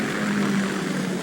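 A Kamov Ka-60 Kasatka helicopter in a PS2 video game gives off a loud, steady engine and rotor drone with a sustained low tone, close and continuous, with no voices over it.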